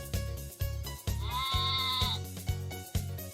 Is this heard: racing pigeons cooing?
no